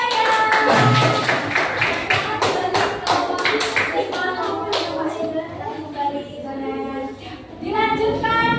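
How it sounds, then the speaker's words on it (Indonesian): Students in a classroom break into brief clapping applause, a burst of hand claps and taps with children's voices and chatter mixed in and continuing afterward. "Silakan beri tepuk tangan yang meriah"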